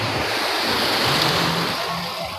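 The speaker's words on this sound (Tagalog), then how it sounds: "Grabe ang mga alon." Ocean waves roar and wash close by, a loud continuous surging rush mixed with gusty wind noise.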